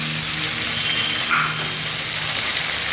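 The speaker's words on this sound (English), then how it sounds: "We're going to saute this for just a few seconds." Prawns sauté with ketchup, oyster sauce and chili paste in a pan, a steady close hiss of frying that holds evenly throughout with no speech.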